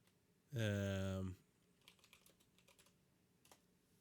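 A computer keyboard is typed on while entering a console command in Unreal Engine 5.7; a loud tonal blip comes first, then light, scattered key clicks at close range.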